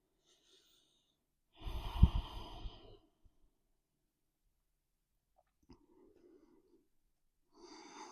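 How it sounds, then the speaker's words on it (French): A person breathes out in a yoga stretching posture, one soft, airy exhale lasting about a second, followed by near silence and a faint breath sound near the end. "Ici, respire dans cette posture d'étirement."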